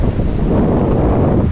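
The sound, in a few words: wind on the seashore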